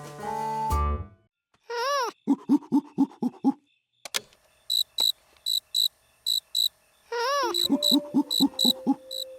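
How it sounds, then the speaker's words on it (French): Rhythmic, evenly spaced cricket chirps repeat in bursts, alternating with warbling, hooting calls; close and fairly loud, with no talking. "tu as enregistré le chant du grillon"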